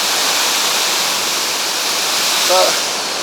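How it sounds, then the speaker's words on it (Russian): A waterfall in Chichkan, Kyrgyzstan roars loudly and continuously, a dense close rush of falling water with a brief voice barely heard near the end. "Похоже на какие-то европейские водопады такие."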